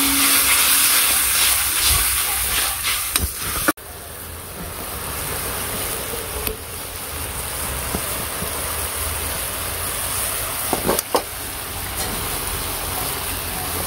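Curry cooks down in a pan with a little added water, giving an even hiss with a few faint clinks and a brief bump.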